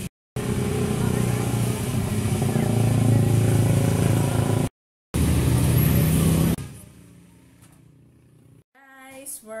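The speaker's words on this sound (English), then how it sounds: "We're here in the gas station." Loud road noise at a gas station in the Philippines, a steady engine and traffic rumble with a motorcycle or car running close by, cut off abruptly, then a quieter stretch with faint handling noises and a voice.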